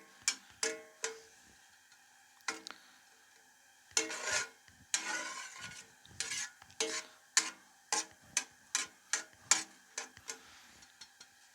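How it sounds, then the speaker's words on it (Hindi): Almonds frying in hot ghee, heard as a run of sharp, separate spoon scrapes and clatters against the pan over a faint, quiet sizzle, the strokes coming in irregular bursts close by. "घी हमारा जो है ना गर्म हो चुका है और फ्राई हो रहा है बादाम इसमें"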